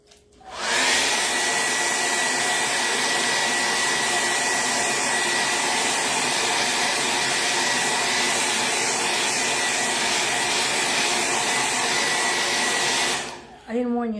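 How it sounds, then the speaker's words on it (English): A hair dryer blowing steadily on an inked shirt, a loud continuous whooshing roar that starts abruptly and runs unbroken for over twelve seconds before switching off. "So I need to blow dry it a little bit"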